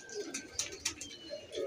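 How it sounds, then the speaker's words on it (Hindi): Soft cooing of Iranian highflyer pigeons and fluttery bird sounds, faint and close, with a few brief chirps over quiet background. "कुछ कबूतर नीचे फिर रहे हैं इनके जाल पे"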